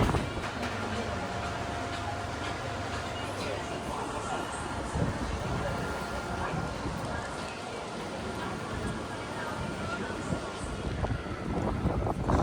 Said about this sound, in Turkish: Yine rüzgar esiyor ama hava güneşli açtı dostlarım